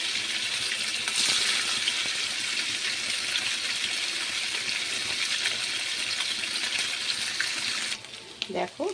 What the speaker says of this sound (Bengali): তারপরে সবার প্রথমে আমি পনিরটা আর আলুটা একটু ভেজে নেব